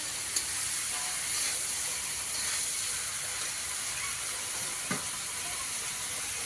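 Steady, bright sizzle of five mixed greens frying in hot oil with garlic, continuous throughout with a couple of brief clicks of a utensil.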